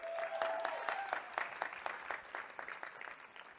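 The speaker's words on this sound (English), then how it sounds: "can we give them another round of applause?" Another round of applause rises from the audience at a live youth panel during the NAACP National Convention, a moderate wash of clapping with some sharper claps, steady throughout and a little distant in the hall.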